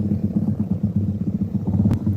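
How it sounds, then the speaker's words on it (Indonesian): An automatic scooter motorcycle rolls past on a road, its engine a close, steady, buzzing putter with a rattly texture and a brief sharp click near the end, and no talking over it. "Ini dengan motor metik."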